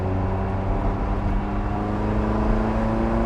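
Dino Evo restomod car accelerating, a continuous close engine drone with steady harmonic tones rising slightly over a few seconds, loud and alone without voices.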